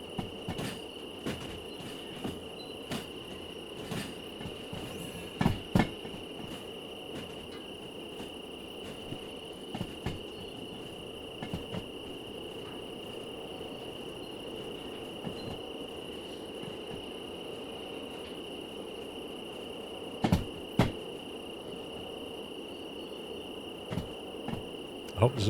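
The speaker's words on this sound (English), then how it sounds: "I couldn't hear the screeching over the cricket noises." Crickets chirp steadily and continuously in the Derail Valley train simulator game, a dense even insect trill with a few brief sharper clicks and knocks breaking through now and then.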